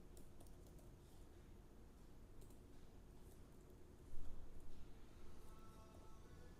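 Code being typed on a computer keyboard, a quiet run of soft key clicks and taps with a brief busier burst partway through, close and alone.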